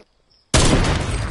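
Quiet gives way to a sudden loud Fortnite gunshot blast that rings out and stays heavy to the end, close and booming.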